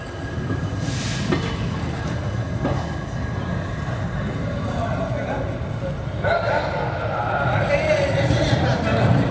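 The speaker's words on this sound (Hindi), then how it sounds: "ग्यारह बजकर 54 पर हमारी ट्रेन पहुंची है कैसल रॉक।" The Vasco da Gama–Tirupati Express train arriving at Castle Rock station, a steady rumble of rolling wagons with faint clatter throughout, while people talk nearby.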